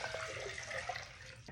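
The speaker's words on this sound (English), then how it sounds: "I'm just gonna pour my water into the big cup" Water pours into a big cup in a short, steady trickling splash heard close and alone, with no talk.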